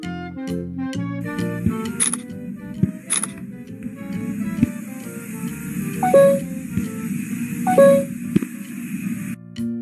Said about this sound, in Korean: 모션 포토를 켜게 되면은 촬영음이 들리는 게 아니라 띵동 띵동 이런 소리가 들리기 때문에